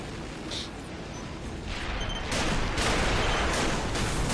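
Gunfire in a video game trailer: dense, continuous bursts of shots and booms layered over a rumbling background, swelling louder in the second half with repeated sharp blasts.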